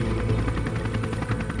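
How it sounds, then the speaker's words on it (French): A helicopter flies over high mountain terrain above Chamonix, its rotor chop steady and loud, filling the clip on its own with no talking. "Il entend l'hélicoptère?"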